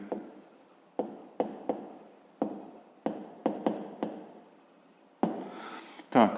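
A pen scratches on paper in short separate strokes, with quick rhythmic bursts of close, crisp scribbling as a maths answer is written out, and gaps of near-silence between them.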